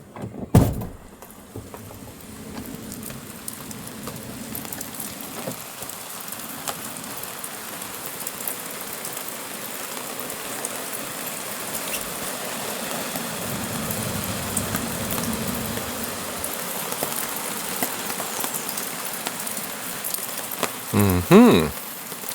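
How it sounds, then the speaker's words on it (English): Rain patters on an RV awning at a creekside campground, a faint, even hiss that holds steady for a long stretch, with a few knocks and louder clatter near the end. "Some rain this morning."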